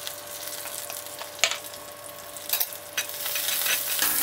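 Coriander, dried red chillies, black pepper and curry leaves are dry-roasted in a pan for chundakka vathal kuzhambu, with soft scraping stirs and light crackling that grow busier toward the end, no voices.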